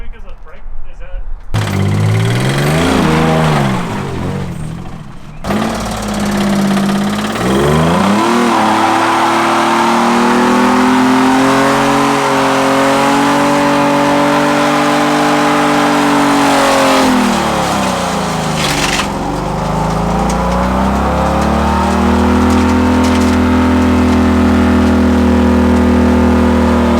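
Damaged car engine that has thrown a rod, revving loudly and close with a rough mechanical tone, rising and falling several times over a long stretch while people talk intermittently over it.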